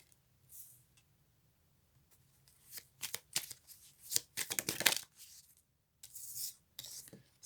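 Playing cards are handled for a card reading, giving soft, close shuffling and sliding rustles in scattered bursts. Quiet pauses separate the bursts, and no one speaks.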